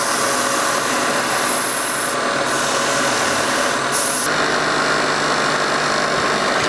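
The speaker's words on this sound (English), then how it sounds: "So inertia sanders. This is made by Vermec in Brisbane, Australia." A Vermec inertia sander from Brisbane with a 3-inch pad works a piece of wood, giving a steady, loud, continuous buzzing rasp with no pauses.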